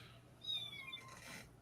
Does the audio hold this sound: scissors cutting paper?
no